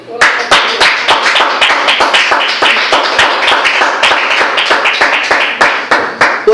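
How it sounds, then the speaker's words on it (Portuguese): A church congregation claps together, loud and close, in a strong steady rhythm of roughly three claps per second, with a few voices mixed faintly underneath. "Você pode aplaudir ao Senhor?"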